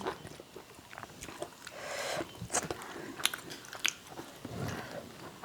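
Someone eating Thai fish soup with young tamarind leaves, with close, wet chewing and biting sounds and a few sharp crunchy clicks spread through the stretch, quiet and without talk.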